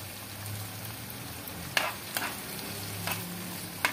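A mixture of onion, tomato sauce, soy sauce and mayonnaise cooks in a pan with a soft, steady sizzle, broken by a few sharp spoon clicks as it is stirred.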